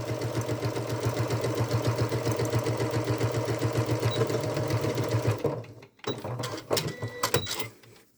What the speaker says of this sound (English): begin by back tacking at the start and then sewing all the way down